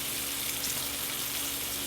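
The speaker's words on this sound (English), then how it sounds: "I'm going to go ahead and get my sauces back up in there with the shrimp" Shrimp and sausage fry in a pan with sauces just added, giving a steady, loud, close sizzle that continues evenly throughout with no talking.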